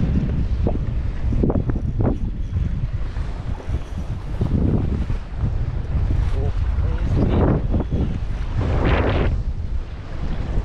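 Strong coastal wind buffets the microphone while lure fishing for bass on the UK south coast, a loud, constant low roar with gusting surges and surf wash, and a few muffled voices heard beneath it.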